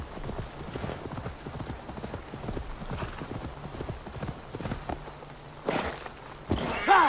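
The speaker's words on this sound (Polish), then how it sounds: "Proszę, jakiś sportowy koń." Horse hooves clip-clop at a walking pace in the video game Assassin's Creed Valhalla, a steady rhythmic series of hoof thuds, close and moderate, ending in louder brief noises near the end.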